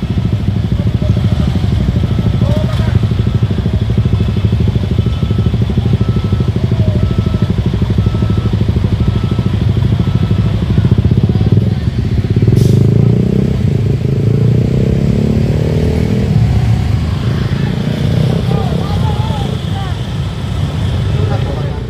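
Heavy road traffic of cars and motorcycles crawls past in Lupi, Camarines Sur, with a constant loud engine rumble, idling and occasional revving close by, and a voice speaking over it.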